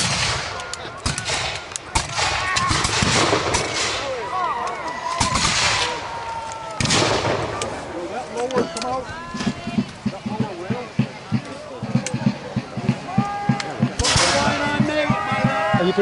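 Musket volleys from American Revolution reenactors in an open-field battle, with sharp close shots and scattered farther reports over shouted commands and voices throughout.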